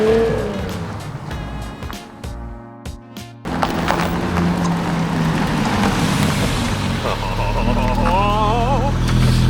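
A Porsche Panamera is driven past or along after a rebuild, with a loud, continuous engine and road roar that builds and holds steady through most of the stretch, with a brief tire-like squeal near the end.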